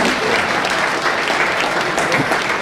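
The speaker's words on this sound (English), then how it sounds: "if we could hear a round of applause and recognition for Citizens for Citizens." A crowd at an MLK Fellowship award ceremony gives a round of applause for Citizens for Citizens, loud and sustained clapping filling the room without a break.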